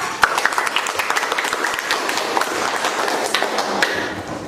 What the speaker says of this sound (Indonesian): Kasih aplaus buat kelompok 4